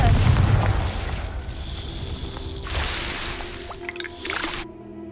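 A Confringo spell blast in Hogwarts Legacy goes off as a loud, low booming burst at the start, then fades into crackling debris and a few smaller impacts before cutting to silence.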